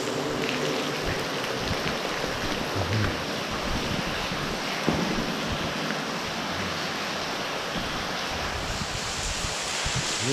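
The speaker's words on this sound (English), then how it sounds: "It's just raining in here." Steady, hissing rush of water raining down and splashing inside Oxford Tunnel, continuous and fairly loud throughout with no voices.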